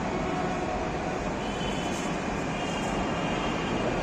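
A Jaipur metro train produces a steady, loud, unbroken rumble and roar that holds evenly throughout.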